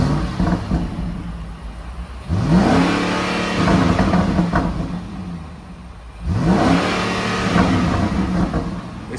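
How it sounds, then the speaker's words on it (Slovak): A BMW X5 M50i's V8 engine is revved twice from idle, each time surging into a loud, throaty roar that holds and then settles back, heard close up with no speech. "Vypočujeme si 8-válec."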